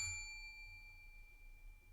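A single clear bell ding strikes at the start, then rings out in a long, fading, pure tone over a quiet background with no voices.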